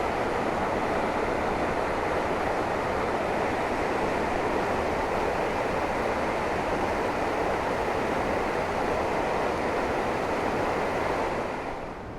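A mountain creek in the Rockies rushes in a continuous, loud, even roar of flowing water, close by and steady throughout, with no talking.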